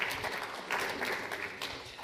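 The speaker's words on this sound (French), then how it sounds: "vous pouvez applaudir tous" An audience claps in a brief, moderately faint burst of applause, a dense patter of hands heard from some distance.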